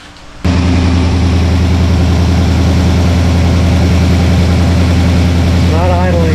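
A Pontiac LeMans engine, troubled by a fuel pump fault, cranks and settles into a loud, steady low idle after a brief quiet start, rumbling on close by with a faint whine near the end.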